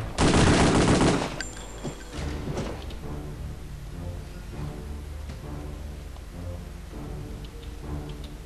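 Paratrooper rifle fire in the shooter game Return to Castle Wolfenstein opens with a loud, dense burst of shots. Scattered sharper reports and faint in-game ambience follow.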